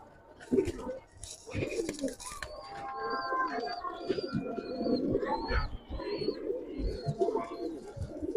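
Giribaz pigeons coo steadily up close in a soft, throaty, repeating rhythm, with people talking over them throughout.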